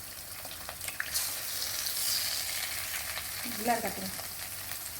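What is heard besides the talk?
egg frying separately in a pan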